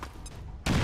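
Gunfire in XCOM 2, a science-fiction squad tactics game: a faint burst opens, then a loud, dense volley of shots erupts near the end, close and filling the mix.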